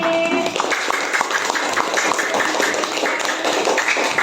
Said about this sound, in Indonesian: tepuk tangan buat Basit